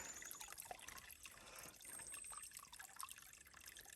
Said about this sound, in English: here's my water source right there